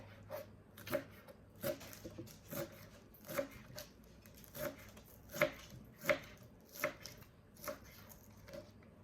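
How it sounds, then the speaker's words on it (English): A knife chops through rolled lettuce on a board, about a dozen sharp, evenly spaced thuds roughly every half second, close and distinct over a quiet background with no talking. "And chop."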